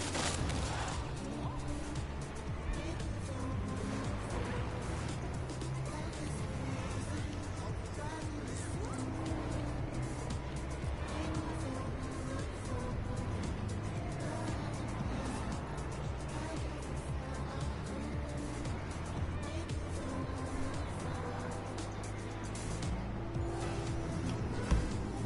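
Vehicle doing wheelies in the video game Watch Dogs: Legion, a continuous engine drone with shifting tones and road noise over the full stretch, dense and steady, with faint talk mixed in.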